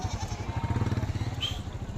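Goats bleating at a busy livestock market, one close rapid wavering bleat followed by faint background noise and a brief high squeal.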